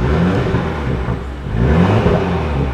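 A facelifted BMW M2 F87 with the N55 engine and an M Performance exhaust revs, producing a loud, continuous engine drone that dips briefly and then swells again, with no talking.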